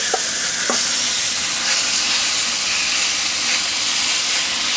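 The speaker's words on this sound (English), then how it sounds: "we'll sear it on all sides" Meat sears in a seasoned cast iron skillet on an outdoor grill, a steady loud sizzle and hiss throughout, with a couple of faint knocks early on.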